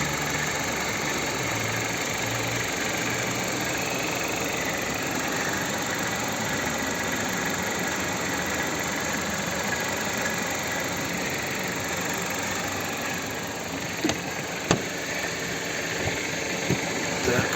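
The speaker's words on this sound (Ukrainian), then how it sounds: "Робота двигуна." A 2015 Jeep Patriot with a 2.4-litre petrol engine and automatic gearbox idling under an open hood, a steady even hum heard up close and alone, with a few brief clicks near the end.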